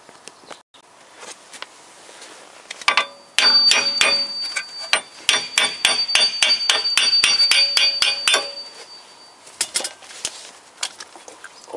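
Rapid metallic hammer blows on a Toyota Corolla driveshaft in quick bursts, sharp and close, clustered in a dense run with scattered single strikes before and after.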